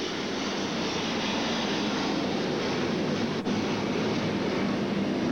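An airplane passes over a baseball stadium during a 1985 Braves–Mets game, a steady broadband engine roar that fills the air evenly and continuously, fairly loud, with no voices over it.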